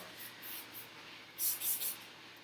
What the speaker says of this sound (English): make sure you spray away from the door because you don't want the little speckles of water laying on the door